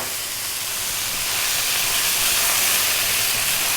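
Light soy sauce poured onto chicken wings in a hot pan hisses into a loud, steady sizzle that swells slightly and holds without a break.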